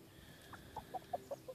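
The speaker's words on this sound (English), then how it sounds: "I think this is a rooster" A rooster gives a run of short, evenly spaced clucks, fairly faint and close, with no talking.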